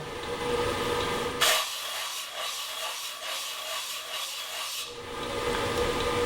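Sandpaper rubbing over a surface lubricated with mineral oil, a steady close scratchy rasp lasting a few seconds with repeated strokes, starting and stopping abruptly against a quiet background.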